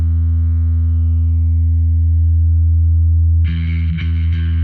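An electric guitar plays through a two-sided distortion pedal on its brighter, treble-heavy omega setting: a loud sustained distorted note rings, then a harsh, buzzy strum cuts in near the end.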